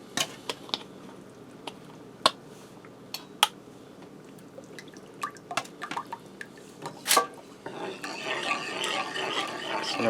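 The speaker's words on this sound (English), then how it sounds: "I'm going to add in 2 cups of heavy cream." Heavy cream poured from a two-cup container into a pan on the stove, a building liquid pour and splash in the final seconds after scattered clicks, drips and kitchen knocks, close by.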